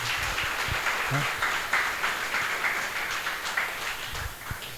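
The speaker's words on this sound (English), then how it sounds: "Let's have a big round of applause for Ashok once again," An audience at a corporate farewell event applauds steadily, a dense continuous patter of many hands that holds for several seconds and slightly fades at the end.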